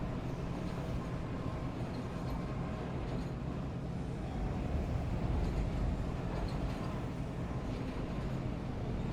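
A steady rumble and rattle of a moving train in the sci-fi horror game Dead Space Remake, a continuous low, even drone with faint clanks, unbroken from start to finish.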